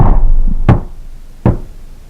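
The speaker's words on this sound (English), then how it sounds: "Little do they know a knock on the door will bring terror." Two loud, sharp knocks land far apart on a door, heard in the horror film The Strangers (2008). Each hit rings briefly, with a low rumble of room tone underneath.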